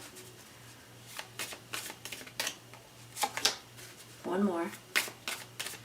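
Tarot cards are shuffled and drawn by hand in a series of quick, crisp riffles and slaps, close and fairly soft, with a voice speaking briefly among them.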